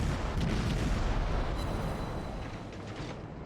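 Naval guns on a Tier VII US Navy cruiser, the Atlanta, fire high-explosive shells in World of Warships as a string of booming rumbles that gradually fades under the ongoing battle noise.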